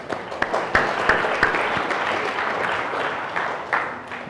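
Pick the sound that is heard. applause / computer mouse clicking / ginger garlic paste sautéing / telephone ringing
applause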